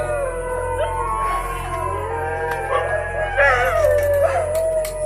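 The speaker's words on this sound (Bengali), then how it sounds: "কুত্তাগুলো এরকম হচ্ছে কেন?" Several dogs howl together at night in an empty fish market, long wavering overlapping wails close by, some rising and falling in pitch, with faint whimpers.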